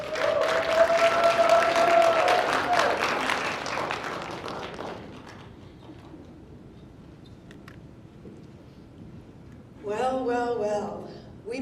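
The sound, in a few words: audience applause at a conference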